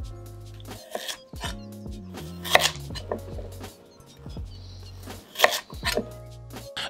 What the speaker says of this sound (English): cut the carrots into large pieces